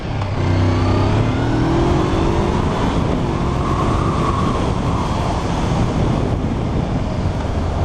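A learner-legal naked motorcycle, one of a Honda CB400, Honda CB500F or Triumph Street Triple, accelerates under throttle with a loud, continuous engine roar whose pitch sweeps upward, sustained throughout with no talk over it.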